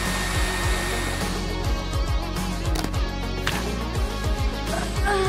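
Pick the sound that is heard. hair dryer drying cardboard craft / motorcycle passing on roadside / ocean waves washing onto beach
hair dryer drying cardboard craft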